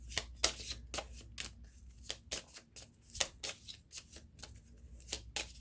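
Tarot cards are shuffled and drawn close by: a series of quick, crisp riffling bursts and snaps in an uneven rhythm, with no talking.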